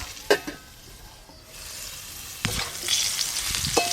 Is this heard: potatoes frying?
yes